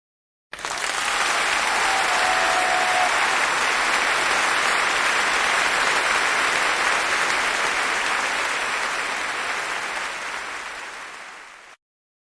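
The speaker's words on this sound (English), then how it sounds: "Please everyone, a massive applause" An audience at a singing competition bursts into steady applause that holds for about eleven seconds, then quickly fades out to silence.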